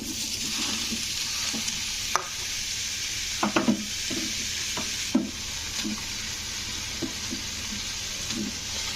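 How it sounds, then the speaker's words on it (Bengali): Mango pieces go into a hot wok on a stove. Scattered clatters and scraping knocks sound over a constant, moderate frying hiss. "তো এবারে কিন্তু আমগুলো দিয়ে দেব কড়াইয়ের মধ্যে।"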